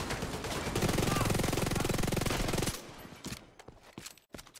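Double barrel shotgun firing in a video game, a dense rapid roar of gunfire for nearly three seconds, then scattered sharp blasts and quieter game sounds.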